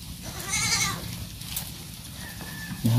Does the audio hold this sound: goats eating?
yes